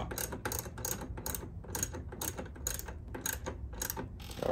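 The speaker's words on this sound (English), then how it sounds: "I'm actually screwing the center pin, the one that goes in between the bushings and the bolt" A bolt being screwed onto the center pin between the handlebar bushings of a 2009 Harley Electra Glide, a steady run of quick metallic ratcheting clicks, close and fairly quiet, with no voices.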